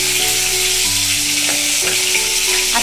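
Cut vegetables, including pointed gourd and carrot for a mixed vegetarian curry, are dropped into hot oil and burst into a loud, continuous sizzle with a few stirring scrapes.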